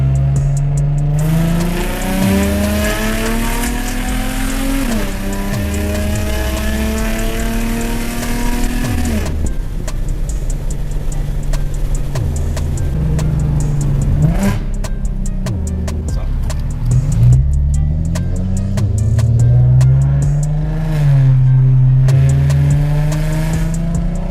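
A loud Infiniti G35 engine with a full straight-pipe exhaust and a possible exhaust leak revs hard and repeatedly, pitch climbing and dropping with a raw, crackling exhaust rasp, close and unbroken throughout.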